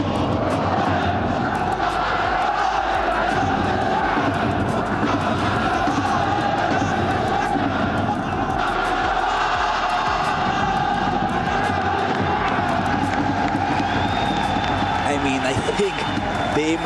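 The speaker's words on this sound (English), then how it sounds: "Abumaka singing with the whole crowd" A huge stadium crowd at an esports football tournament keeps up loud, continuous singing and cheering throughout, dense and roaring, with a commentator's voice faintly mixed in.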